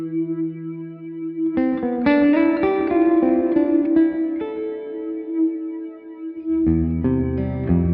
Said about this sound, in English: Slot 2 will have you reaching for your best David Gilmour licks with its huge reverb and exaggerated slow flanger.